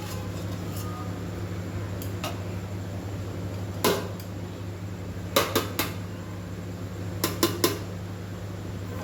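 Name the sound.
covering a cooking pot with a lid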